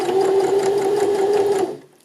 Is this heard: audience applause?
no